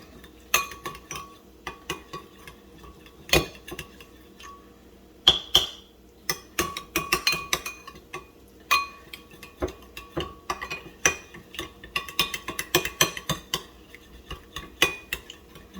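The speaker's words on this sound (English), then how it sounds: "And stir it all up." A utensil scrapes and clinks against a pan while chickpea wrap filling mixed with sriracha is stirred, a run of irregular metallic taps and scrapes at close range with brief pauses between strokes.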